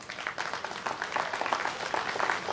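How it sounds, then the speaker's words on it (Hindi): Scattered clapping from an audience at a lubricants prize distribution event, fairly distant and moderate in level, with uneven bursts over a couple of seconds. "इसलिए एक बिग ताली हो जाए सबके लिए।"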